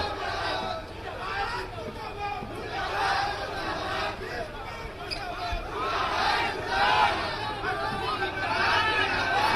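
A large crowd at a Nitish Kumar political rally shouts slogans against him: a steady, dense roar of many voices with rising and falling surges, continuous throughout.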